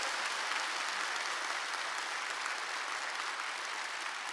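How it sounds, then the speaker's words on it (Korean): A church congregation at a Korean evening thanksgiving service applauding steadily, a dense, even wash of many hands clapping at once that holds without pause from start to finish. "박수, 박수, 할렐루야"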